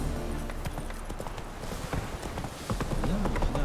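Roach, the horse in The Witcher 3, trots with steady clip-clopping hooves close by, set against game ambience and the odd brief voice.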